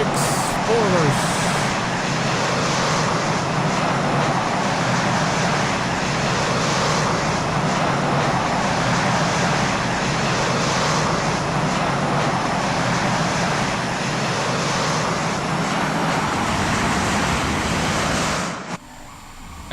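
Jet engine roar from a plane in Microsoft Flight Simulator 2024, a loud, steady broadband rush that holds for nearly twenty seconds before cutting off abruptly near the end.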